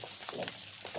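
Curry leaves frying in a nearly oil-free pan for a poha snack mixture give a soft, steady crackling sizzle with a few brief sharper pops, close and unbroken, no voices.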